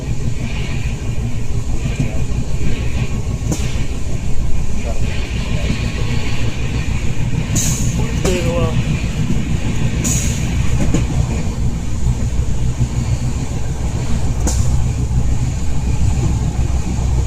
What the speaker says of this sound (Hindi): ट्रेन को यहाँ खलीलाबाद में रोका गया था, निकल चुके हैं अब यहाँ से।